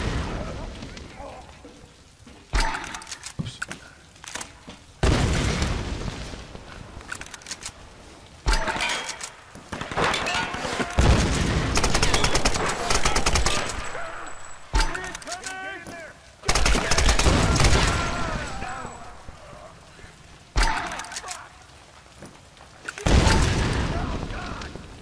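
Rifle gunfire in the Tomb Raider video game comes in loud, repeated bursts across the scene, with sharp shots set against quieter stretches and rain-like background noise.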